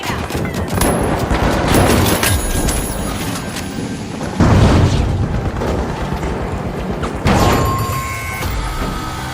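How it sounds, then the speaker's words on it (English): Pyro grenade blasts in The Finals, a first-person shooter arena game, land as loud booming bursts around 4.5 and 7.3 seconds amid dense gunfire and a steady din of combat. "Pyro grenade out."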